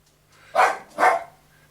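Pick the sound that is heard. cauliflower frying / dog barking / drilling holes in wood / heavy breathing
dog barking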